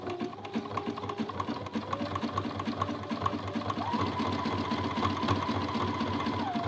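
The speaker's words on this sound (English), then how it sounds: "and then I'm going to keep sewing." A hand-cranked sewing machine stitching miniature quilt fabric, a steady close-up chatter of rapid needle strokes running continuously without any voice.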